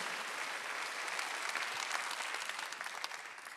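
Church congregation applauding during a Sunday worship service, a dense steady wash of clapping from many hands that tapers slightly toward the end, with no talk.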